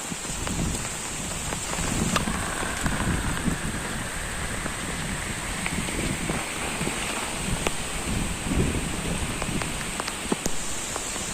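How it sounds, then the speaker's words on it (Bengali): Heavy rain pours steadily during a storm in Munshiganj, with gusting wind buffeting the microphone and a dense, continuous roar of drops close by, no voices present. "প্রচুর বৃষ্টি হচ্ছে"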